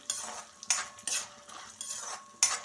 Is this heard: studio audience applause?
no